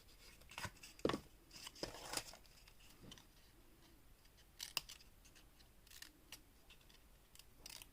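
Scissors snip through paper or cardstock while crafting with Stampin' Up supplies, a series of sharp, close cuts spaced irregularly with quieter rustling in between, no talking.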